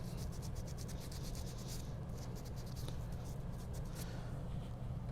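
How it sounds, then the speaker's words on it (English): Rapid, rhythmic rasping strokes of sandpaper rubbing across a small whittled wooden witch carving, steady and close, over a constant low background hum. "I'm going to keep sanding away here"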